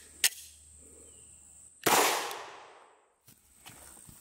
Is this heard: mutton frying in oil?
no